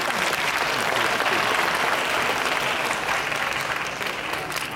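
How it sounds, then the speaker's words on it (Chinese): An audience applauds at a high school bodybuilding award ceremony for the under-60 kg class, a dense, sustained clapping from a crowd that stays loud throughout and eases slightly near the end. "这个时候可以来一点掌声"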